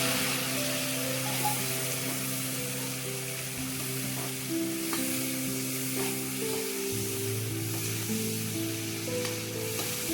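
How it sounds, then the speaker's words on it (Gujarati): Chopped tomatoes hit a hot oiled pan for sev tamatar, giving a steady close sizzle and frying hiss with occasional stirring clicks, no voices. "ત્યારબાદ તેમાં 3 નાના ટમેટા કટિંગ કરેલા છે તે નાખશું."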